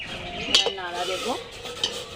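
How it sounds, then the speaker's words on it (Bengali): Rice being stirred in a pot of hot water, giving a few short scraping, clinking strokes close by, with a brief knock near the start and another near the end. "নাড়া দেবো।"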